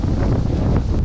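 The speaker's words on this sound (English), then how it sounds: "I don't know how much the wind will interfere" Hurricane Milton's strong gusts buffet the microphone near a beach, a loud, low rumbling roar of wind noise that never lets up, with no one speaking.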